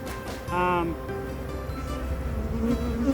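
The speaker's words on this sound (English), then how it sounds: "So I've got a lot of different types of bees in here" Bees buzz around an open beehive during an early June inspection, a steady close insect drone with a brief louder whine as one flies near, under a low background of handling noise.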